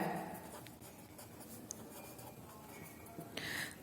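Pen or marker writing out numbers on a surface, with soft scratchy strokes throughout and a slightly louder stroke at the end, no speech.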